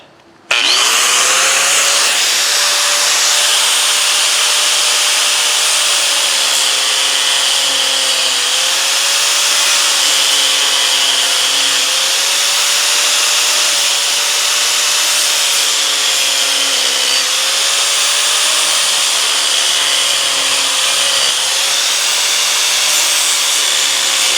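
Power tool grinding new crosshatch tread grooves at an opposite angle into a worn lawn mower drive wheel, a loud steady whine with slight pitch dips as the cut varies, running continuously alone.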